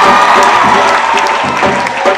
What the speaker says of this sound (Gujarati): તાળીઓ પડવી જોઈએ મિત્રો